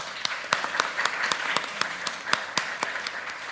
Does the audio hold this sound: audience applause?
yes